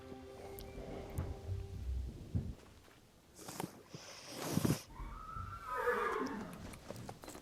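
A horse whinnies loudly in the video game Mistfall, a drawn-out neigh mid-clip rising and falling, with a second whinny and hoof clops around it over ambient game sound.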